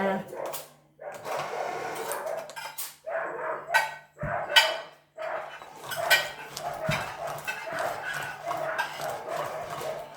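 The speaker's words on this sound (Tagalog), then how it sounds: "Ano ba naman ito mga aso?" Several dogs bark in quick, overlapping bursts, fairly close, while people talk over and between the barks.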